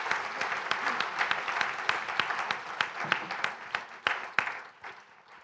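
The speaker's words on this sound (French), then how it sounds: "je vous propose qu'on arrête là, mais qu'on les applaudisse avant de vous donner la parole" Audience applause after a round-table discussion, a burst of distinct claps from a fairly small crowd, close and sharp at first, then thinning and tapering off toward the end.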